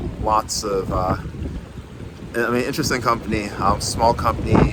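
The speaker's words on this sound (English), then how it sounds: "wow, it's really windy. Whoa, this wind is crazy" Strong gusts buffet a microphone outdoors in bursts of low rumble while someone talks steadily over the noise.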